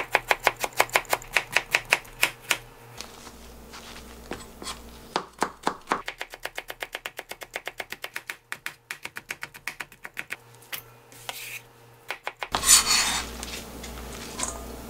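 A knife julienning a round pumpkin on a board for pumpkin jeon, with rapid, rhythmic runs of crisp chopping strikes broken by short pauses, then a brief clatter near the end.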